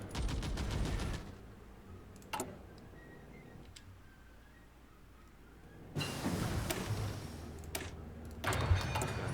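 Artillery fire in a strategy video game, heard as bursts of rapid crackling shots at the start, middle and end, separated by a quieter stretch with a few isolated ticks and no talking.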